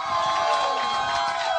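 A crowd cheers and whoops loudly as the artist Jidenna comes to the stage, a dense continuous roar of voices with shouts rising above it, close and sustained.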